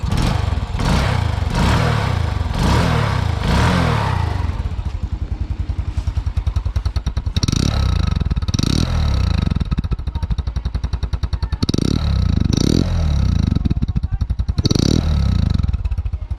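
A small 100cc Kanuni Seyhan Cup 100 motorcycle engine with semi-automatic gears, long stored in a garage, running close by, chugging steadily at idle with a few quick revs rising and falling, loud and continuous.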